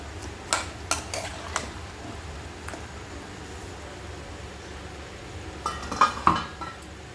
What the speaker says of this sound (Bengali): মাংসগুলো দিয়ে ভালো করে কষাচ্ছি আর আলুটাও দিয়ে দিলাম